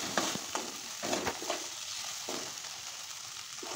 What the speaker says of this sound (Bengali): তখন আমরা দিয়ে দেব ভেজে রাখা কাঁকড়াগুলো দেওয়ার পর ভালো করে নাড়িয়ে চাড়িয়ে নেব